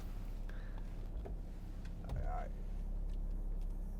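Interior of a 2014 BMW 430d Gran Coupe on the move, with a constant low road and engine rumble, a few light clicks and ticks, and a voice speaking briefly over the cabin noise.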